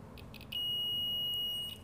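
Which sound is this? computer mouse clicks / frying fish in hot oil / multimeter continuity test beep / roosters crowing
multimeter continuity test beep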